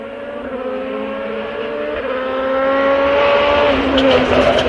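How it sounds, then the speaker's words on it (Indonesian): A black NASCAR race car engine drones loudly and steadily, its pitch holding and then stepping up as it revs higher toward the end, heard close with no voices over it. "Ternyata di sini ada mobil NASCAR."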